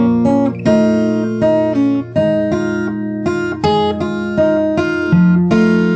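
Fingerstyle acoustic guitar playing the opening of a song, a steady run of plucked notes and ringing chords over six seconds, close and solo without talk.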